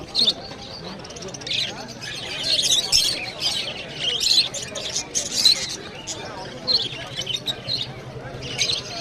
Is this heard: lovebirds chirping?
yes